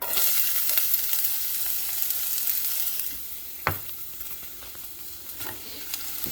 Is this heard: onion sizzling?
yes